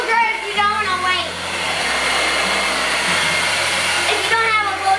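A hair dryer blows steadily and loudly for several seconds to dry paint on a Halloween bat stencil craft, with a continuous airy roar that shifts pitch slightly as it moves.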